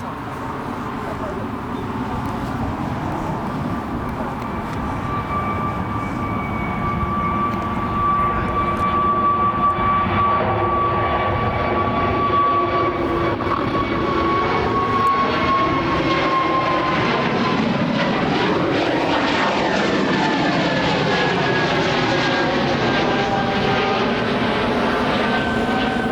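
A plane approaching to land at London Heathrow, its engine roar swelling from a distant whine to a loud, close rumble that passes overhead and peaks near the end, with people talking beneath it.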